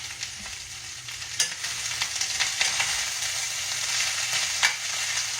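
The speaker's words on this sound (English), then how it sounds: "So we're stir frying it." Chopped cabbage and half an onion stir-fry in a hot pan, giving a continuous close sizzle broken by scraping stirs and sharp pops.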